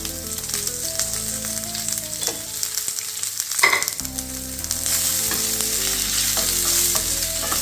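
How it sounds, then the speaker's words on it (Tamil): Mutton liver frying in a pan with onion, chili and curry leaves, stirred with a spoon; steady loud sizzle with scraping strokes, a brief dip partway, then a fuller continuous fry. "கிளறி விடணும்."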